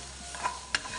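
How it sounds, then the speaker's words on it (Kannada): Ginger, garlic, mint leaves and onion frying on medium heat, a soft continuous sizzle with two brief scraping stirs, close and fairly quiet, no talk. "ಚೆನ್ನಾಗಿ ಇದನ್ನು ಫ್ರೈ ಚೆನ್ನಾಗಿ ಮೀಡಿಯಮ್ ಆಗಿ ಬಾಡಿಸ್ಕೊಂಡ್ಬಿಡೋಣ"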